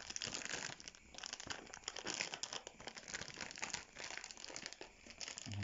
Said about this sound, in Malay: kita bungkus dengan menggunakan plastik seperti ini ya